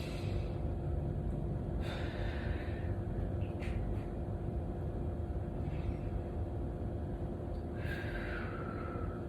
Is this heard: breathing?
yes